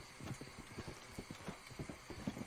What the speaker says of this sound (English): Get off the horse, stop kicking like an idiot.